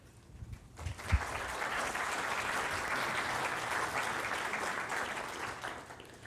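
An audience breaks into sustained applause to welcome a lecturer at a talk on bioremediation and environmental cleanup. The clapping swells after a quiet start and stays steady and dense for several seconds.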